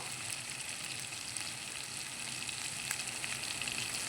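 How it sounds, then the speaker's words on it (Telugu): Sambar sizzles steadily in a pot after salt and turmeric are added, a soft, continuous crackle with faint stirring scrapes close by and no talking. "ఒకసారి తిప్పుతున్నాను"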